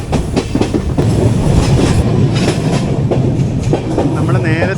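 Kochuveli Superfast Express 22113 running on the main line toward Panvel, giving a loud, steady rumble with rhythmic wheel clatter throughout.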